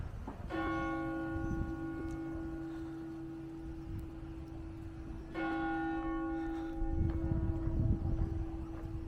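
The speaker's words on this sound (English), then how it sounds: "They started the bells." Church bells ringing at Lancaster Castle in England, two clear resonant strikes with long ringing decays over a noisy outdoor background with low rumble.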